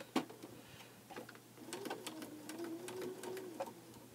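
A sewing machine fitted with a quarter-inch foot stitches a quilt block, a quiet rapid mechanical whirr with rhythmic ticking that starts after a few isolated clicks, faint and close.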